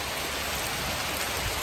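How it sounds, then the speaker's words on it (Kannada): Heavy summer hail-laden rain pours down in Coorg, a dense, steady hiss of drops drumming on surfaces, loud and unbroken with no voices over it. "ಓಯ್ ಏನು ಮಳೆ ಬರ್ತಾ ಇದೆ"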